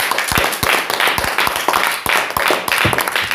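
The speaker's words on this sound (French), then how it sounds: "Applaudissons un peu plus" A church congregation claps for several seconds, dense and steady, with individual claps popping through a broad wash of applause and little speech on top.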